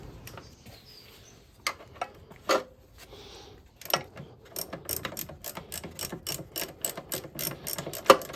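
Ratchet wrench clicking as it undoes a bolt during suspension disassembly, starting with a few separate pulls and then settling into a steady, close run of sharp ratcheting clicks.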